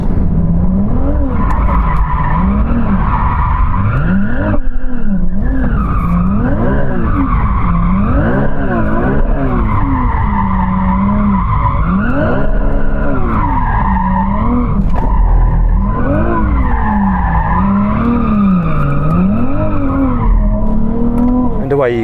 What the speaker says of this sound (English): we get to warm up our tyres by doing some donuts